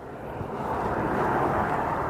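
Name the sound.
airplane approaching Aberdeen Airport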